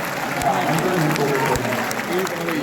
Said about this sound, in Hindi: तो एक बार जोरदार तालियों के साथ आप जन के बड़े नाम दिनेश बाबरा का पटना के मंच पर प्रदान करना चाहते हैं।